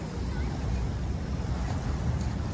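Strong afternoon wind and waves at Dolomite Beach on Manila Bay, a dense continuous roar of surf with wind buffeting the microphone, steady and loud throughout.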